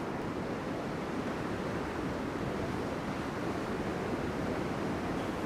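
Ocean surf from long-period swells breaking beside a beach groin at a popular surf spot, heard as a steady, dense wash of broadband noise with wind, constant and fairly loud throughout with no distinct individual wave crashes.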